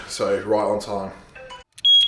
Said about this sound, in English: That's my alarm for cardio